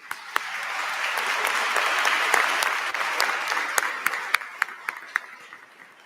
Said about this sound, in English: Please help me give a round of applause to Professor Carl Bowman